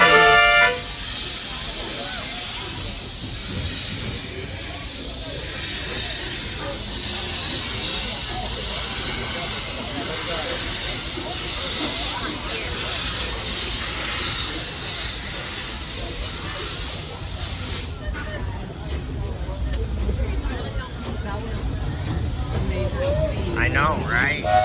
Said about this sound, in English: It's choo-choo time!